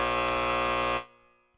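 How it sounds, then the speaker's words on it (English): A harsh electronic buzzer blares loud and steady for about a second, then cuts off abruptly with a short fading tail. "I'm just going to give myself the buzzer early"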